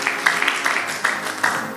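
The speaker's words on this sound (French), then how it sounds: "On applaudit pour ce message puissant" Audience applause for a pastor's message at a Bible school graduation ceremony: a steady patter of many hands clapping fills the room, with louder bursts recurring through it and no clear talk.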